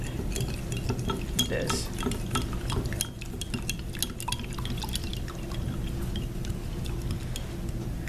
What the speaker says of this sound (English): pour it into the gelatin like so by stirring it